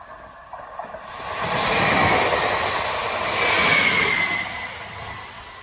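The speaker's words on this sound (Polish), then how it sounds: "No i mamy pociąg." A train rolls past outdoors, its rumble and rushing noise swelling as it nears, holding steady, then fading slightly at the end.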